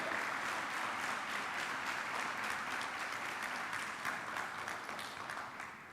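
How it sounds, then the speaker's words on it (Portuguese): Sustained applause from a church youth-service congregation, steady and dense throughout the six seconds, fairly loud and fading slightly at the end, with no speech over it. "Dá um aplauso para Jesus aí,"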